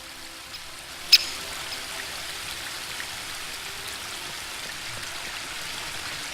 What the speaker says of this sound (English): The spring brook emerges up there. It's still small here, but it becomes one of the largest and most important rivers.